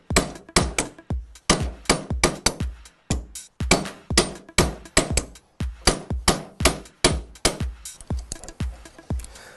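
Rapid, forceful hammer blows ring on metal against a bracelet-forming die in a steady, repeated rhythm, close and loud, with brief pauses between bursts of strikes.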